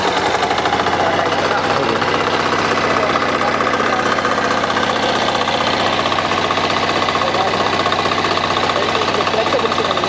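A power weeder engine runs steadily and loudly up close, a continuous rough, buzzing mechanical drone with rapid knocking pulses and no change in pace across the whole stretch.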